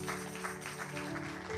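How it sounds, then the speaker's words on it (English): Congregation applause rises in a church during a Sunday morning service, a brief wash of many hands clapping at moderate distance over a low steady hum. "Let's give the Lord a clap offering this morning."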